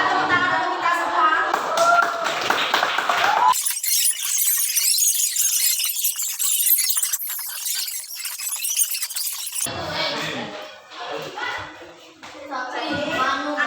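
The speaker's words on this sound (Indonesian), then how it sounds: "Oke, silakan tepuk tangan untuk kita semua." A primary school class claps hands together, a burst of bright, dense clapping from the children mixed with their voices, preceded and followed by a teacher and kids talking.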